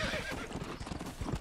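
A thin, weak horse walks in Red Dead Redemption multiplayer, its hooves clip-clopping in a steady gait with a whinny mixed in over game ambience.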